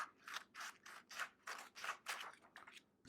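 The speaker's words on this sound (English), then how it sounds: "grab our handy dandy scissors, and we're going to cut out all of the" Scissors snip through paper in a steady series of about nine close, crisp cuts, each a short rasping slice with brief pauses between, quiet and alone with no talk.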